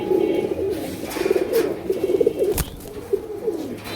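Pigeons cooing close by, a series of soft, throaty rolling coos repeated in short bursts, with a brief sharp knock partway through.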